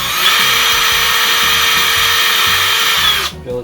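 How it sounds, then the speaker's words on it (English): An electric drill whines loud and steady as it bores a hole through a lightsaber hilt holder, up close and continuous before spinning down abruptly at the end. "Take my drill, line it up with that hole."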